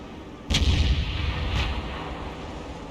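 A tank fires its main gun in a tank video game and the shell impacts a ridge, a sharp loud boom followed a second later by a duller second blast over a rumbling background.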